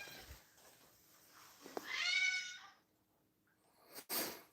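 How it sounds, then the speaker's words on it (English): A house cat in a home shared with several rescue cats gives a single drawn-out meow at close range as it approaches, followed by a short sharper sound near the end in an otherwise quiet room. "that is a cat walking towards us"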